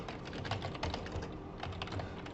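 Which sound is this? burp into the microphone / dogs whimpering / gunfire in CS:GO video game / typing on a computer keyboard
typing on a computer keyboard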